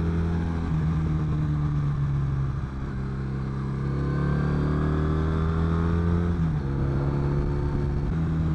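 A Triumph Brooklands Bonneville Café Racer motorcycle engine thrums steadily while riding, its pitch climbing as it pulls and dipping at a gear change, loud and continuous with wind noise.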